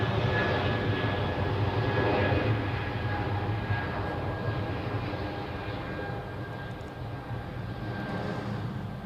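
Narrow-body airliner at Zurich Airport, its jet engines roaring steadily and loudly, a broad rumble that holds for the whole stretch and eases only slightly toward the end.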